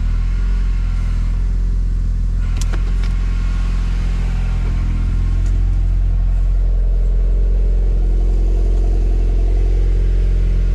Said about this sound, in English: the car is idling, warming up right now, so it's like 1200 RPMs